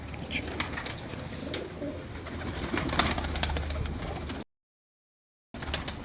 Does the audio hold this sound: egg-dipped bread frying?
no